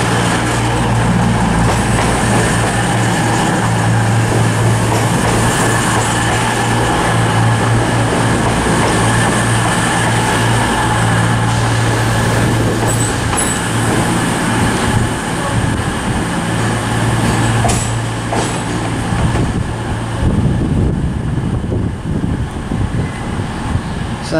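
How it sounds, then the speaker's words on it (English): A cross-country passenger train from Newcastle pulls into Plymouth station, a loud continuous rumble of wheels and engine under a steady drone, with a brief high squeal and clatter near the end. "arriving now is going to be a terminating cross-country service from Newcastle"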